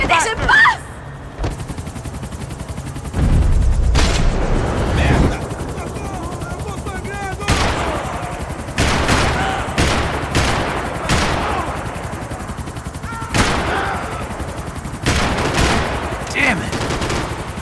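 Loud gunfire in Max Payne 3, bursts of rapid automatic shots and single cracks spread throughout, mixed with a heavy low rumble and shouted voices.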